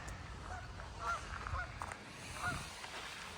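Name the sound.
geese honking on a lake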